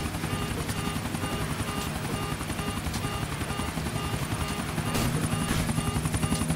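Helicopter in the video game GTA IV, a steady loud rotor thrum with dense engine whine running throughout, swelling slightly louder near the end.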